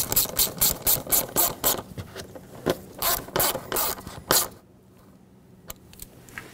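A ratchet tightens a hose clamp on the upper intake manifold of a 2008-2020 Dodge Grand Caravan 3.6L, with quick close rows of loud clicking strokes in bursts, then a pause with a few isolated clicks.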